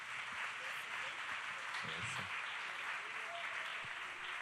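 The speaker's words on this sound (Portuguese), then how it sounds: "Mais uma vez vamos aplaudir ao Senhor." A church congregation applauds during a worship service, giving a steady wash of clapping that holds evenly throughout, with faint voices and a low murmur underneath.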